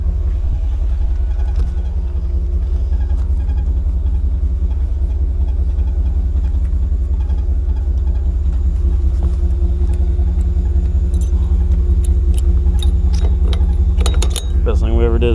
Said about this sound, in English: Fixing to get this boom in the air.